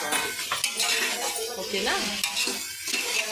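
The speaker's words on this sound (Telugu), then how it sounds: "ఆ తర్వాత టమోటా వేసుకొని మిక్స్ చేసుకోవాలి." Tomato is stirred into moong dal in a pan, with scraping spoon strokes and a soft sizzle running continuously. A voice briefly speaks over it.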